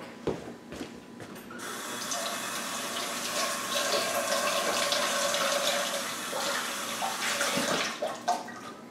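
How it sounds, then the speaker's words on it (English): Running tap water splashes steadily into a sink as hands are washed in a home kitchen, a continuous close rush of water starting after a few knocks and ending with a couple of clunks. "I'm going to quickly wash my hands."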